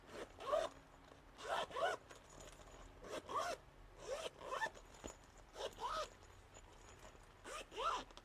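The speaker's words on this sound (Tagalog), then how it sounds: "Tingnan muna natin kung working yung mga zipper." Zippers on a money organizer being pulled open and shut, six quick rasping zips in a steady rhythm with short pauses between, close and clear.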